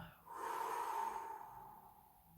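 Slow exhalation during a Pilates breathing exercise, a single soft, breathy outbreath lasting about two seconds, close and alone with no talking over it.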